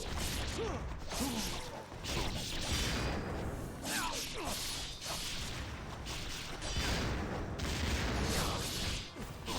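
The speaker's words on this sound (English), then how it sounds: "Oh, so they're exploding after they're thrown." Rapid explosions from incendiary shurikens thrown by enemies in the Ninja Gaiden II video game, bursting in repeated crashes and whooshes amid dense combat noise, with voices talking over them.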